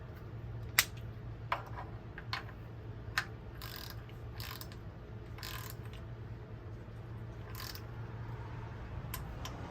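A torque wrench clicks and ratchets in a series of sharp, quiet ticks while tightening crank hub bolts on a BMW S55 engine, against a low steady hum.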